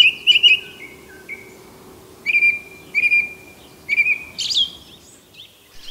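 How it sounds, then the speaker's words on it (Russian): A song thrush and a nightingale sing at night near a village, with clear whistled phrases repeating in short bursts over a quiet, faintly noisy background. "этот певчий дрозд и соловей, поющий за кадром"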